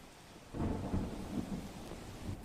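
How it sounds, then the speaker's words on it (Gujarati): Steady rain falls in Chalamali, Chhota Udepur district, Gujarat, with a low, rumbling roar beneath it, dense and continuous with no voices. "ચલામલી અને આસપાસના વિસ્તારોમાં વરસાદ વરસી રહ્યો છે"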